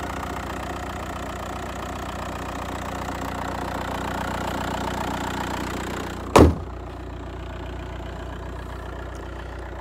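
A 2005 Volkswagen Jetta wagon TDI diesel engine idles steadily with a low, even drone, cut by a single sharp thump like a hood or door closing about two-thirds through, after which the idle sounds more muffled.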